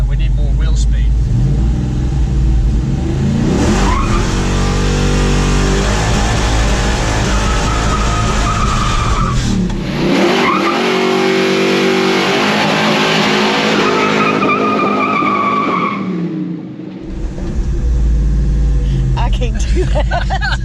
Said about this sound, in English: Since we're wanting to do a rolling burnout, we need more wheel speed.